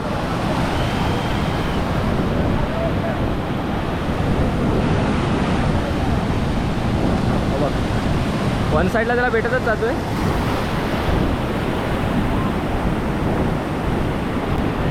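Strong, rough sea waves crash and roar nonstop during fishing, with heavy wind buffeting the microphone in a loud, dense wash of noise while someone talks over it.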